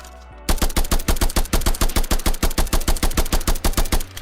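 Rapid automatic gunfire from a weapon in a Black Ops–style zombies game built in Unreal Engine 5, a loud, steady stream of about twenty evenly spaced shots alone over roughly four seconds.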